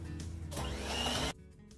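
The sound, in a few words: electric blender whisking brown sugar in a bowl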